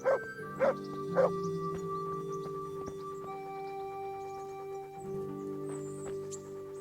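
Dog in the Kingdom Come: Deliverance video game giving several short yips and barks up front, then a drawn-out whimpering whine over steady game background music.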